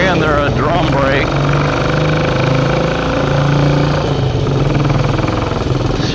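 A 1967 Triumph Mountain Cub motorcycle being ridden, its small single engine droning steadily and loud throughout with pitch shifts as gears change, under wind rumble.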